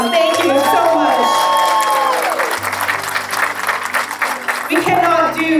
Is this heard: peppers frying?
no